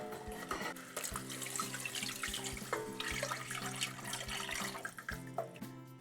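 Tap water pours steadily into a pot to make Korean doenjang soybean paste soup, a close, continuous splashing stream with ringing tones from the filling vessel and a few brief dips in flow.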